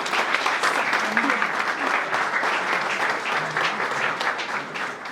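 Audience applause fills a packed room at a book launch in Luanda, steady dense clapping sustained throughout and fairly loud, with no talking over it.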